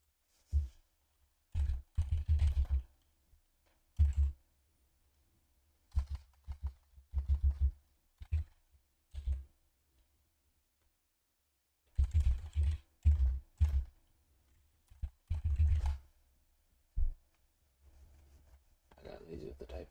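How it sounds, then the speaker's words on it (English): Bursts of computer keyboard typing come in short, separated clusters of quick clicks between silences, fairly close and moderately quiet. "I got lazy with the typing."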